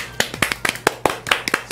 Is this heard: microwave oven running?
no